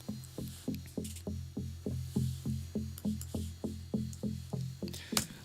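Virus outboard synth playing a bass layer in a studio, a steady pulsing run of evenly spaced plucky bass notes in triplet rhythm, clear and upfront with no talking.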